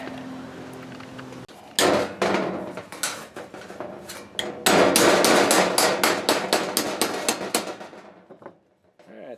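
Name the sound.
wood mallet hammering sheet metal pieces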